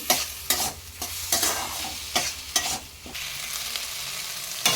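Rice being stirred and fried in oil for khichuri: a loud, close sizzle pulses with repeated rhythmic scraping strokes of a spoon against the pot, about two each second, with no voices.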